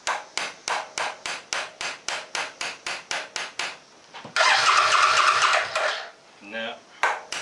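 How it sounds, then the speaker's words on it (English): Repeated sharp taps strike the carburetor of an old Suzuki Boulevard motorcycle, about a dozen evenly spaced knocks, followed by a burst of engine cranking or sputtering, then a few more taps near the end. "So I'm going to try tapping on the carburetor, see if that'll close that."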